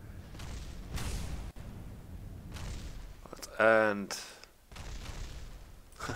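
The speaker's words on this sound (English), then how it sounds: "some explosions." Explosions from the video game Kerbal Space Program at a crash site: several muffled booms and crackling bursts, with one sharp, loud blast near the middle, while someone talks over them.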